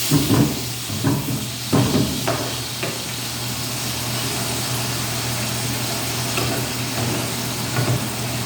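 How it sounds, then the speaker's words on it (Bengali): Puti fish sizzling as it fries in a pan, a continuous hiss of hot oil with several sharp utensil knocks and scrapes near the start and a few more toward the end. "এটা মাছ ভাজার দৃশ্য।"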